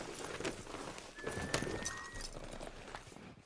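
Horse hooves clip-clop at a walking pace in the video game Red Dead Redemption 2, soft and fairly quiet under outdoor ambience.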